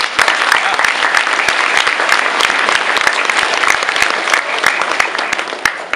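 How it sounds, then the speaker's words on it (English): Audience applause honoring an undefeated rifle team member, steady dense clapping from a crowd that fills the room for the whole stretch, loud and unbroken. "Give him applause."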